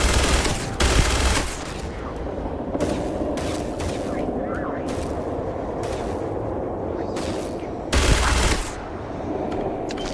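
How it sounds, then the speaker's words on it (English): Gunfire in the video game Starfield: rapid automatic bursts and heavy shots, loud and close, with sharper blasts near the start and again around the eighth second over a constant game background. "who's shooting at me?"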